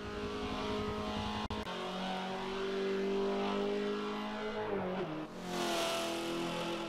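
A Mazda car engine in a racing video game revs toward a 7,000 RPM redline, holding a steady loud drone with a shift and dip near the end before it climbs again, with no talk over it.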